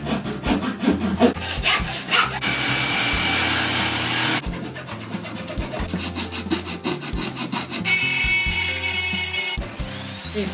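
A saw cuts through wood to shape a toilet seat, with close, loud, steady rasping strokes that run in long continuous stretches, broken by brief pauses.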